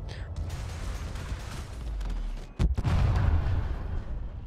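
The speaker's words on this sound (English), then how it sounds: "beautiful explosion." A spaceship blows up in the game Elite: Dangerous with a sudden loud boom and rumbling roar, following a stretch of steady mechanical weapon and engine noise.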